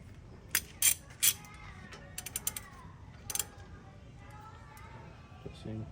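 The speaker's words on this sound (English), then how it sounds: "now we're gonna break this bolt loose" A ratchet breaks a brake bolt loose on a 2015 Toyota Tundra during a brake job, giving a few sharp metallic clicks and clanks in short bursts against a quiet garage background.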